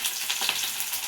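Onions frying in hot oil in a pan, a steady close sizzle with a brief soft stir partway through, no talking.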